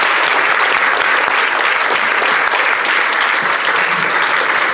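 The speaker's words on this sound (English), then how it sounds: "Can we get one more round of applause for our moderator and our panelists this afternoon?" Audience applause for a moderator and panel at an afternoon APR Hot Topics panel discussion, a dense, steady wash of clapping from a large room that stays loud and even throughout with no talk over it.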